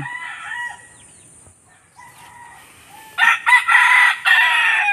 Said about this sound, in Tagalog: ito po yung kanilang likod bahay. Ayan, may mga manukan sila dito.